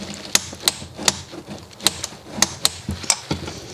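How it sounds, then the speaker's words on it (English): A torque wrench ratchets in crisp, evenly spaced clicks while tightening a banjo bolt on the turbocharger of a BMW M57 diesel engine. About a dozen sharp ticks sound up close. "we can get the banjo bolt torqued down to 22 Newton meters"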